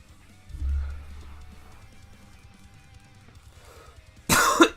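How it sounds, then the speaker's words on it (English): A person nearby, who has a bad cough, clears the throat and coughs against a quiet background. A single low cough comes early, then a sharp burst of coughing near the end. "I have such a bad cough."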